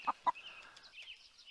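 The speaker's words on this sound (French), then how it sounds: "Là-bas, il y a une poule." A chicken clucks in an Unreal Engine 4 game: two short, sharp clucks up front, then softer, fainter clucking trailing off against a quiet background.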